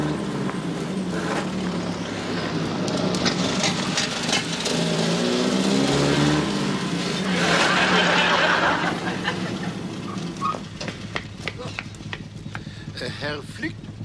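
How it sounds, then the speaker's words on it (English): A car engine in a wartime sitcom scene, running and drawing nearer, a steady mid-level rumble that swells toward the middle, with people talking and laughing over it. "There's a car coming."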